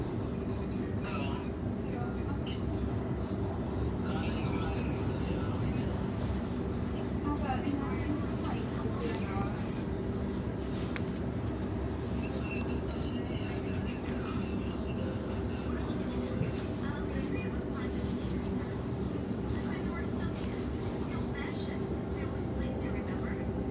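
Onboard a Sydney Trains Waratah B set on the T2 line, a constant low rumble and drone of the running train fills the cabin, with occasional rattles and clicks riding on top.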